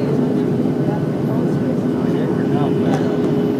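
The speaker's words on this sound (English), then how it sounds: "Another airplane landing." Steady, loud airplane cabin roar as a passenger jet flies its final approach to land at Oakland, a constant broadband drone filling the whole stretch with faint talk beneath it.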